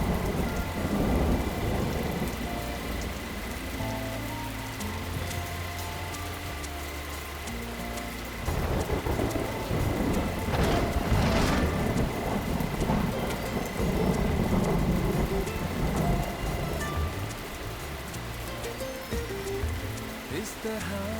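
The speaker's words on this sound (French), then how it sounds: "C'est un orage." Heavy rain falls steadily throughout a thunderstorm, with deep rumbles of thunder rolling in and a louder burst near the middle. Voices speak intermittently under the downpour.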